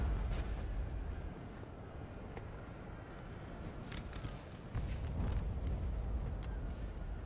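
Artillery fire in Napoleon: Total War, heard as low, rumbling distant booms that roll under a steady battlefield din and swell again near the end.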